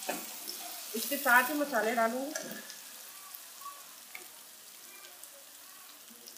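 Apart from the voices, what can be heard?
beef liver frying in a pan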